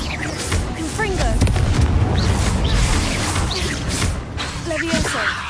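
Confringo fire spell in Hogwarts Legacy, a deep rumbling boom with whooshing debris that swells and lingers over several seconds amid game voices.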